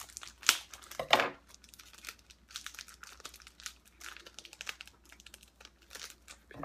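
Packing tape is ripped and peeled off a box of baseball cards, two sharp tearing rasps near the start followed by quieter crinkling and handling noises.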